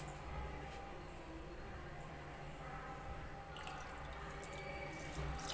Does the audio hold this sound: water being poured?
yes